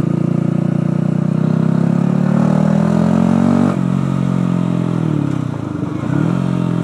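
A Yamaha YZF 125 four-stroke motorcycle being ridden, its engine holding a loud, steady mid-pitched drone that shifts slightly in pitch partway through, heard close up.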